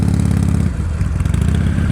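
A motorcycle engine runs close and loud at low revs during slow-speed riding practice, with a rough, pulsing throb and slight rise and dip in tone, no voices.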